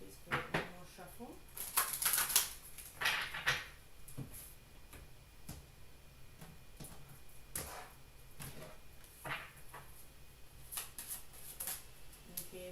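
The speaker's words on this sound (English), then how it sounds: "One more shuffle." Tarot cards shuffled by hand, giving soft papery riffles and flicks in scattered bursts, with quiet room noise between them and no talking.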